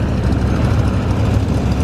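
A small airplane's engine runs at a pancake breakfast fly-in in Fremont, Michigan, a loud, dense, continuous propeller drone heard close up with no talk over it.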